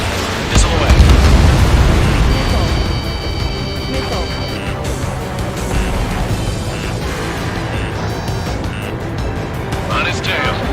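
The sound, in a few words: missile fired and exploding in the video game Ace Combat 7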